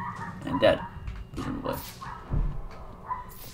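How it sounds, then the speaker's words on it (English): Dogs in a nearby room bark and yip a few times in short bursts under steady talking and game sound, heard now and then in the background. "I apologize for my dogs barking in the background."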